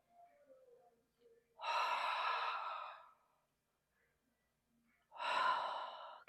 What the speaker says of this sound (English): Nice big breathing.